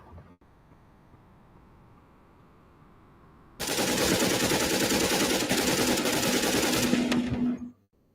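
Sustained automatic gunfire in the video game The Division, a loud, dense burst of rapid shots lasting about four seconds after a quiet stretch of low ambience, then cutting off abruptly.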